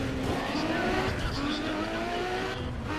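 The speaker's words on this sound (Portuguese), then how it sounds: "Nossa, o ronco, dá pra ver que o carro é potente, né?" A Nissan Skyline built to 1500 hp in NFS Pro Street, its engine roaring steadily with rising and falling harmonic tones as it revs under load, with tire noise mixed in and someone talking over it.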